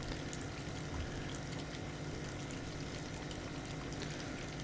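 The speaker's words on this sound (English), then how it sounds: "Both walls lined with churning tanks of water." Tanks of water churn and bubble along the walls of a bait shop in the game Kentucky Route Zero, a quiet, continuous watery wash with no breaks and no voices.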